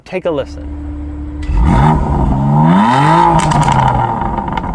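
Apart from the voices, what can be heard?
sports car exhaust note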